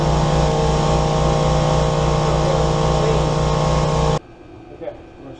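Strong compressed air blast from a pressurized tank blowing off a 1991 Honda EX1000 generator part, a loud continuous hiss with a pulsing low rumble that cuts off abruptly, followed by quiet handling noise.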